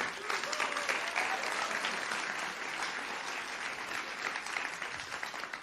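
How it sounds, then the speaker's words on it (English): An audience at a livestreamed award ceremony for a food systems innovation challenge applauds steadily for several seconds, a dense, fairly quiet wash of many hands clapping at some distance. "Can I get a big round of applause for Danush Dinesh and Jacobine Manak?"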